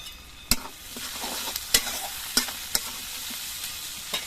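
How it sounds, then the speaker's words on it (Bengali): Sliced onions with a pinch of salt fry in hot oil in a pan, a steady sizzle broken by five or six sharp clacks of a spatula stirring against the metal, close and alone. "এবার পেঁয়াজগুলো একটু ভেজে নেব।"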